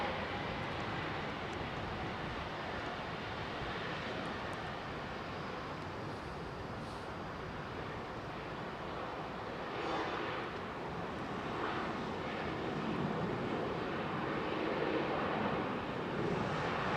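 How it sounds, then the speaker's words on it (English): A Jordan Aviation Airbus A330 airliner at Heathrow Airport, its engines a continuous broad, fairly distant roar that holds steady and swells slightly toward the end. "Jordan Aviation 330 should be making its way up for departure."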